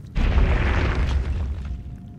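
A butt bomb blast goes off in Owlboy, one loud, booming burst that rumbles and fades over about two seconds.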